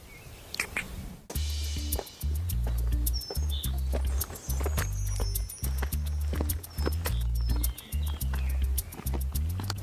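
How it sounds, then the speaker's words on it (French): Horse on a mountain ridge near the Pic de Bugarache, with repeated, steady low thuds like hooves or movement close by, faint bird chirps above, and a brief quieter stretch at the start. "on a notre copain le cheval qui est là, qui nous attendait"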